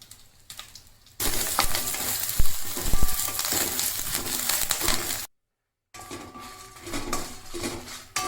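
Red chilies and curry leaves sauté in a pan on a low flame with a steady, bright sizzle and occasional stirring scrapes and clinks, close up, broken by a short silent gap.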